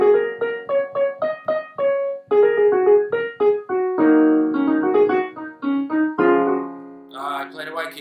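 A piano improvising only on the black keys plays a bright pentatonic melody of quick separate notes over held chords, close and clear, ending on a final ringing chord.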